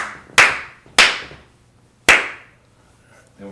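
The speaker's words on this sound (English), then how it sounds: "Can I get you to do a clap? Just like a loud clap?" Sharp, loud hand claps at an interview setup: three separate claps, one after another with short pauses, each snapping crisply and fading quickly in a quiet room.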